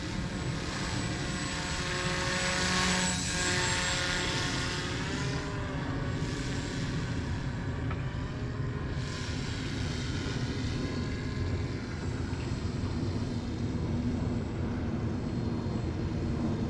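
A paramotor engine drones steadily in flight under a new wing, its propeller buzz loud and continuous with slight swells in pitch as power changes.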